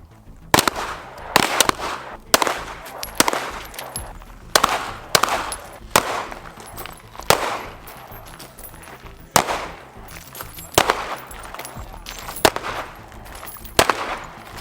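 Pistol shots fired one at a time on an outdoor shooting course during a level 2 pistol class, a dozen or so loud sharp cracks spaced about a second apart with short echoing tails and no talk.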